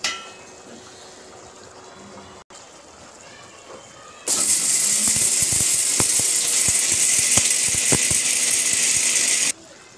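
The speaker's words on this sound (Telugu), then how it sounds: "పచ్చెనపప్పు, జీలకర్ర, ఎండుమిరపకాయలు, ఇంకా కరివేపాకు, అవి మిక్సర్లో వేసి మిక్సర్ పట్టుకుంటాము" A mixer grinder grinding roasted chana dal, cumin, dried chillies and curry leaves starts after a few quiet seconds of handling, then runs as a loud, steady, high-pitched whir with rattling for about five seconds before cutting off.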